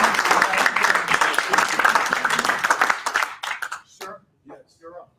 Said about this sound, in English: Give Gore a round of applause.